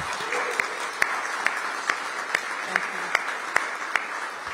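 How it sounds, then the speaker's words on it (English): A small gathering at a government agreement signing claps in a round of applause, a fairly faint spread of hands with a few sharper individual claps standing out at regular intervals. "let's give them a big round of applause."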